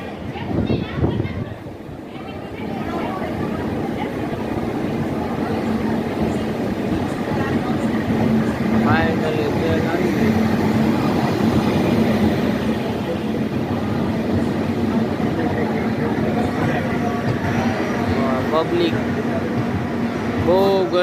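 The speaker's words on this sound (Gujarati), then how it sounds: "ફાઇનલી ટ્રેન આવી ગઈ છે" A passenger train pulls into a station on the way from Rajkot to Somnath, its steady loud rumble and rolling hum holding throughout, with a bustle of voices and platform noise over it.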